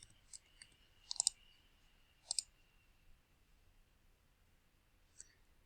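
A few sharp, quiet clicks on a computer while algebra homework is typed in: a quick double click, another pair about a second later, then a lone click near the end over a faint hum.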